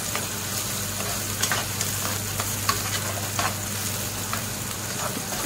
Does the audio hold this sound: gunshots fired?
no